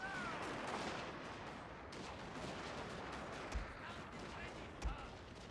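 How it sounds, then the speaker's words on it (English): Period-era musket and artillery fire in Total War: Shogun 2 Fall of the Samurai, heard as a faint, distant rumble of shots with a couple of soft thumps standing out. "Are you shooting each other?"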